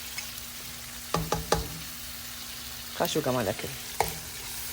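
Chicken liver frying in a pan gives a steady sizzle, with a few sharp utensil clinks and a spoon stirring through it. A voice speaks briefly over the cooking.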